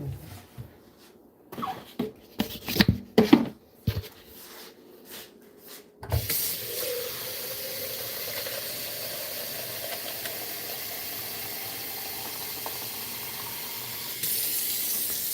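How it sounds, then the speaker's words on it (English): Water poured into an Instant Pot for pot roast, a steady, continuous splashing stream after some brief clunks and handling noises, with a louder surge near the end. "Hold on, let me add some water to it."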